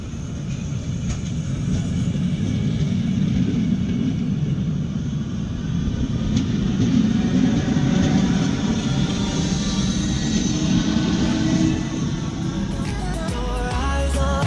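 Two Belgian trains stand together at Eijsden station near Maastricht, giving off a loud, steady rumble and mechanical hum that holds for the whole stretch, with faint squeals and a few thuds near the end and no talking.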